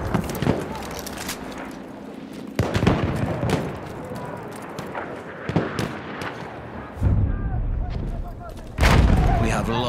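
Explosions and gunfire in a Battlefield 1 battle, including a thrown grenade: several loud, sharp blasts at irregular intervals over continuous battle noise, with shouting voices in between.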